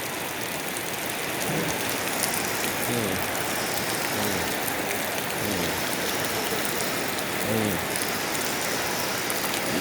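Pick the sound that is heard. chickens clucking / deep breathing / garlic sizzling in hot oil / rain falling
rain falling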